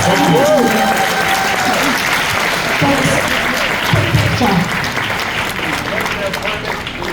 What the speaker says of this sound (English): Let's have another round of applause for Fix